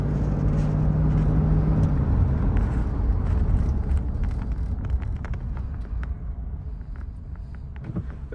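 A 1990 Lincoln Town Car Cartier with a 5-liter engine drives along, a low engine hum and road rumble heard from inside with wind noise, gradually easing as the car settles; faint clicks and rattles toward the end.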